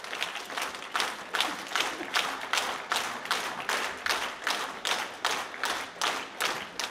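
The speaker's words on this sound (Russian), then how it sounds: "Аплодисменты в его честь не смолкали в зрительном зале" An auditorium audience applauds a decorated war veteran with steady rhythmic clapping in unison, beats landing about three times a second, loud and sustained throughout.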